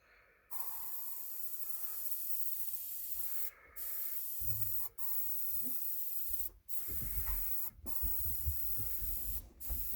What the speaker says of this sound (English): I'm just doing a video on using this airbrush.